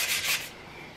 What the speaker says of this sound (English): this needs a nice gentle sanding over here